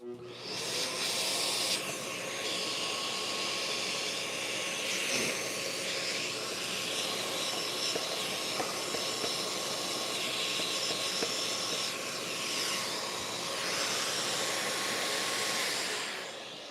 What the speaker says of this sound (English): so we're gonna get in there again with the vac